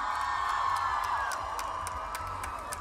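Studio audience at the Super Music Awards 2019 in Greece cheering and whooping for a best female artist win, a steady crowd roar with scattered claps and shouts, fairly loud and continuous throughout.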